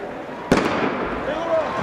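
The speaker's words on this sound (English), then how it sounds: "And with the gunfire by Emmett Coughlin, we are underway" Starting gun fired to begin the Wanamaker mile at the Millrose Games indoor track meet, one sharp loud crack with a brief echo in a large arena under announcer commentary.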